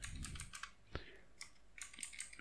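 A password being typed on a computer keyboard, a quick run of light, close key clicks with brief pauses between bursts, faint and alone.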